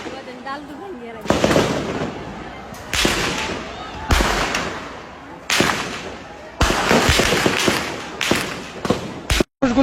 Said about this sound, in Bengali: ওই যে গুলির শব্দ হয়তো পাইতেছেন